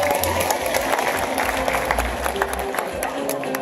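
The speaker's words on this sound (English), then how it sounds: "Come on, a round of applause for both of our young cubs out here." Steady audience applause at an animal show with young cubs on stage, continuous clapping from a crowd with a little cheering and some talk underneath.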